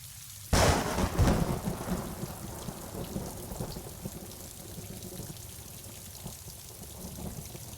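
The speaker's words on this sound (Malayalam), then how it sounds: "എന്തൊരു മഴയത്! ഇതിപ്പോഴും തിരുന്ന ലക്ഷണമില്ല." Heavy rain pours steadily after a sudden loud crack of thunder near the start, the downpour continuing as a dense wash.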